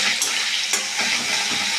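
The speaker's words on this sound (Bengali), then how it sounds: "দেখো, টমেটোটা একটু ভেজে নেবো, তাহলে নরম হয়ে যাবে" Chopped tomato fries in hot oil with a pinch of salt while being stirred, a steady close sizzle broken by a few brief scraping stirs over about two seconds, with no talking.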